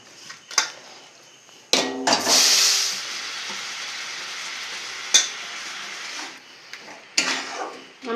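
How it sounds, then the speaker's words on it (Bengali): Jaggery and coconut mixture for sesame laddu sizzles and crackles in a wok, with a loud burst as it goes in and sharper stirring scrapes at intervals over a continuous hiss. "এবার যে গুড় আর নারকেলটা মিশিয়ে নিয়েছিলাম কড়াতে দিয়ে দেব।"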